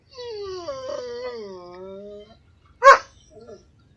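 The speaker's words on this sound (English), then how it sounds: "My dog's being a little annoying." Pet dog Jacob whines in a long, wavering howl lasting about two seconds, then lets out a sharp yelp and a brief softer whimper, close by and with no other sound around it.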